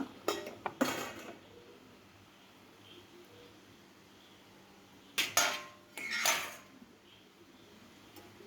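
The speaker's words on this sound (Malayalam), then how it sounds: "ഇനി നമുക്ക് പാത്രം പതുക്കെ അങ്ങോട്ട് എടുക്കാം" A cooking pot is lifted and handled in a home kitchen while preparing a leafy stir-fry, with a few sharp metallic clanks and scrapes in two clusters separated by a quiet pause.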